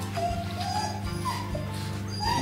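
Husky dogs at an animal shelter whimper in thin, rising whines that come and go over a low, steady background hum.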